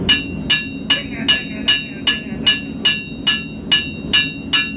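Hammer striking hot metal while forging points and bevels, a steady ringing clang repeated about ten times at an even rhythm, loud and close, with a low hum of the forge beneath.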